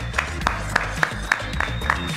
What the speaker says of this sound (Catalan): avui toca donar un fort aplaudiment a les campotades que entri l'Ona, la Núria i la Joana,